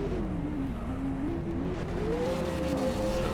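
Race car engines rev loudly before a race start, pitch wavering up and down as drivers blip throttles, a dense continuous roar with a second engine layered underneath.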